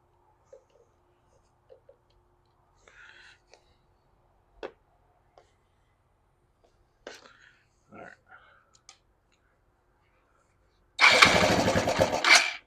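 A 1993 Suzuki GN 125 motorcycle with a weak battery, being jump-started: scattered quiet clicks and faint murmurs, then the engine catches and runs loudly and roughly for the final second and a half.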